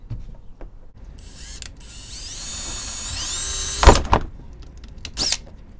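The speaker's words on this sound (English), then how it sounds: "If I could drill a hole." A power drill with a masonry bit whines up in pitch and bores steadily into a Toyota Corolla part, then a couple of sharp clunks and a short final burst of spinning.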